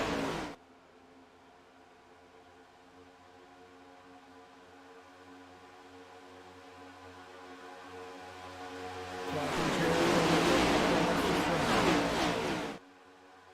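Race cars in the Daytona 250 roar down the back straight, a faint distant drone that swells into a loud pass-by near the end before cutting off abruptly.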